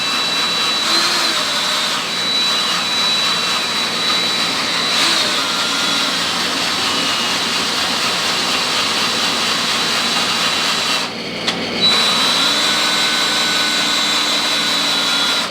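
A power drill primes the oil pump on a 1969 Dodge Charger engine, a loud continuous high whirring drone that holds steady, with a brief dip near the end before resuming.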